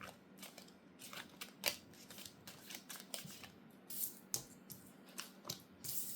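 Tarot cards are shuffled by hand in repeated soft riffles and flicks, close up and fairly quiet, with no talking.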